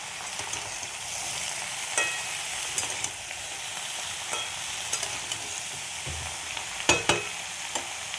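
Mixed vegetables including potato, eggplant, pumpkin, papaya, bitter gourd and capsicum frying in a pan, with a continuous hiss and occasional spoon taps, the last few sharper and closer together.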